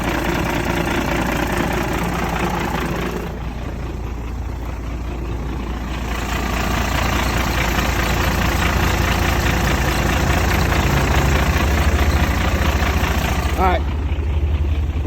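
A 1991 International 4900 dump truck idles steadily, a loud continuous engine rumble with slight knocking vibration running throughout, close by, with someone talking over it intermittently.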